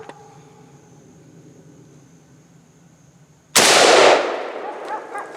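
A single loud AK-47 shot in 7.62x39 fired at a Master Lock cracks sharply outdoors after a quiet stretch, with a ringing echo trailing off.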